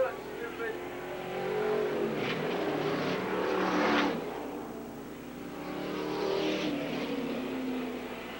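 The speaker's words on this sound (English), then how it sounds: "Frankie Paymaster battling for the lead as they go down the Billboard backstretch." Race cars battling for the lead down a track's backstretch, engines swelling and fading as the cars pass in waves, with an announcer calling the race over the noise.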